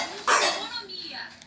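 A child knocks a cooking pot on a bedroom floor, giving one bright metallic clank with a ringing tail, close by, while an adult voice talks over it.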